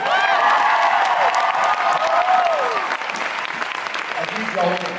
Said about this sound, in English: round of applause for Alexander